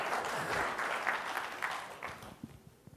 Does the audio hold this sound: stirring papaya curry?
no